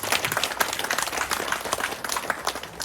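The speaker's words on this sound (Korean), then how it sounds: "우리 남성호 교수님 다시 한번 뜨거운 박수 부탁드립니다" Audience applause for Professor Nam Seong-ho, a judge at a Busan reading-essay awards ceremony, with sparse distinct claps rising from a modest crowd, moderately close and uneven in rhythm, no voices over it.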